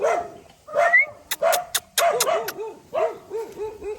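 Several dogs barking nearby in quick, repeated bursts, some yips and short whiny barks mixed in, loud and close.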